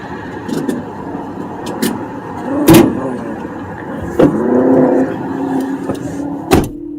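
A Tesla car passes at a protest, its low rolling road noise swelling and fading across several seconds, with a few sharp knocks and bangs nearby and no talk.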